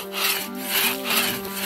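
A hand saw cuts through wood in a rural setting, close and loud, with steady back-and-forth rasping strokes in an even rhythm and no talk.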